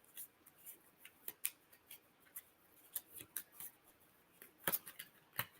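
Playing cards from a deck-building golf card game are shuffled and handled, giving soft, quiet riffles and sharp little snaps scattered irregularly across the stretch, with no talking.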